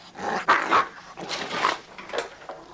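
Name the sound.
dog barking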